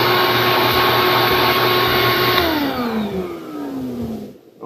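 A Shop-Vac with its hose on the blower outlet, used for houseboat black water tank vent maintenance, runs as a loud steady whooshing drone whose tone falls as the motor winds down near the end.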